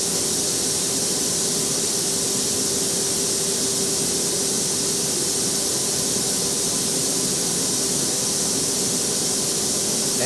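A CNC machine runs a program with its spindle turning at 1000 RPM, giving a steady, loud hissing whir with a constant tonal hum, unbroken and alone for the whole stretch.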